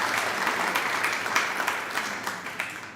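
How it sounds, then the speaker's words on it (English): A crowd applauding in a hall, a dense, sustained wash of clapping at close range with a few sharper individual claps standing out, continuing steadily for a few seconds. "Can you please give her another round of applause?"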